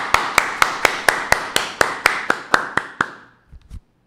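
Slow, evenly spaced single claps, about a dozen sharp, close hits at a steady beat that stop abruptly, followed by a brief low thump.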